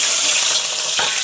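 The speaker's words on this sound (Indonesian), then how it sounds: "Goreng sedikit daun kari ni" Curry leaves sizzle in hot oil in a pan while a spiced Malaysian stir-fry is being started, giving a steady, close, loud frying hiss throughout with no talking.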